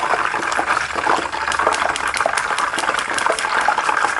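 Water from boiled potatoes is drained off for potato fritters, pouring and splashing in a steady, close gush that continues without a break.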